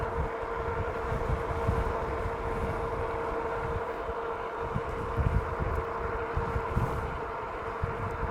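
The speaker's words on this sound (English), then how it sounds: "I really like riding with the wind at my back, boy." Wind rushes past the microphone while riding a dual-motor, dual-battery Philodo Jumbo electric bike, a steady low roar with a faint constant hum and gusty buffeting, loud and unbroken with no talk.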